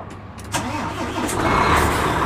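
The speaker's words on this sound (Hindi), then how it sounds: "अब हम इसको करते हैं स्टार्ट।" A 2011 Volvo truck with an automatic transmission cranks and fires up, its start-up burst settling into a steady, close, low diesel rumble that carries through to the end.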